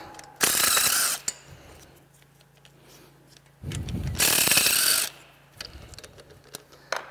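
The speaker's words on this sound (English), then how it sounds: "We should be able to pull them out with an impact." An impact wrench pulls exhaust manifold studs on a CAT C15 engine, firing two loud rattling bursts of about a second each, separated by quieter shop noise, followed by lighter clicks and handling sounds.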